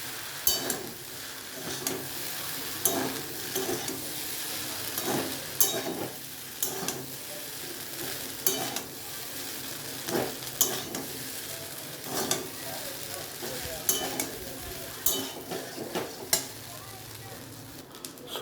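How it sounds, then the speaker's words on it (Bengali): Pasta with potato, egg and soy sauce stir-fries in a pan, a steady close sizzle broken by repeated scraping stirs of a spatula, with occasional light clinks against the pan. "সয়া সস দিয়ে ভালো করে ফ্রাই করে নেবেন, এরকম পুরো একদম ভালো করে সুন্দর করে ফ্রাই করে নেবেন।"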